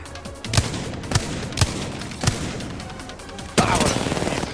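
Gunfire in the shooter game Apex Legends arrives as four sharp, separate shots about half a second apart, then a denser burst of rapid fire, all loud against a busy background of game sound.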